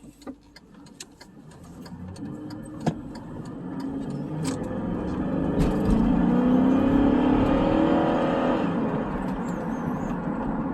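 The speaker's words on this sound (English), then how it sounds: "Transmission shift's good. It's up to speed nicely." A 2004 Cadillac Deville engine running as the transmission shifts up to speed after a throttle body cleaning, with a low rumble that rises steadily to a sustained drone and a few sharp clicks early on.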